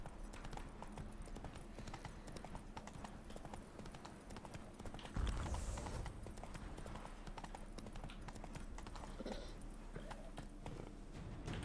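Roach the horse trots through The Witcher 3 video game, with a continuous, rhythmic clip-clop of hoofbeats throughout, at a moderate distance and fairly quiet against a constant ambient game background.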